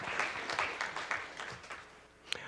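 Scattered clapping from an audience at a board meeting, quiet and uneven, with individual claps in a loose rhythm that thins out before one last sharp clap.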